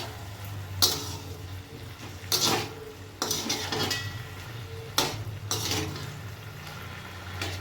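Puishaak curry with potato, taro, slit chillies and sugar is stirred in a pan, with a few distinct spoon scrapes and clanks against the metal over a low simmer and no talk.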